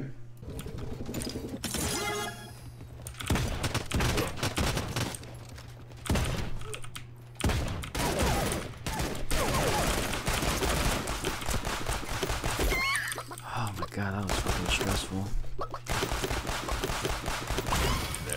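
Pistol fire from the Realm Royale battle royale game crackles in rapid, dense bursts over a steady low hum, with clicking keyboard taps mixed throughout and no talk.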